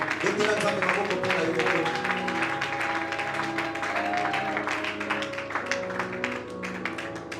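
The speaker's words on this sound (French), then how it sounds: "Acclame très fort le Seigneur" Church seminary congregation applauding and cheering in praise, a dense continuous wash of clapping and voices that stays steady throughout, with music and a speaking voice audible underneath.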